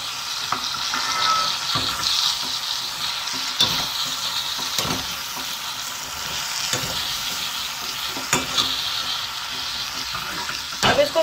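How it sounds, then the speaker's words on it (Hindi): Beans and peas curry with spices sizzles in a pan while a spoon stirs it, with a steady frying hiss broken by repeated scraping strokes at a close distance. "अब इन सारी चीजों को, मसालों को, हम अच्छी तरीके से इस सब्जी में मिला लेंगे इस प्रकार से"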